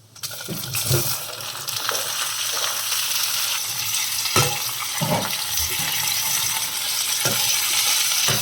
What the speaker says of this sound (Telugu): టమాటాలు ఎల్లిపాయలు ఇవన్నీ వేసేసుకుందాం